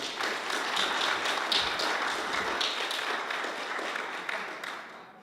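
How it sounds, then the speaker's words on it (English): A crowd claps for several seconds at a student society election speech event, a dense rattle of many hands that holds steady and then tapers off at the end. "Hewitt, give a round of applause."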